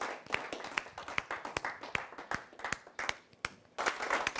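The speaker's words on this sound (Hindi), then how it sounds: "तो एक बार जोरदार तालियों के साथ स्वागत करते हैं डॉक्टर राजीव राज जी का।" An audience claps to welcome a poet at a televised poetry gathering, sharp individual hand claps in an irregular, sparse rhythm, close and distinct, thickening into fuller clapping near the end.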